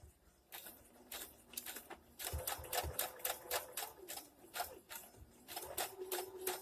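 A sewing machine stitches back and forth on a dress being refashioned, running in quick mechanical bursts with short pauses between them, close and fairly quiet.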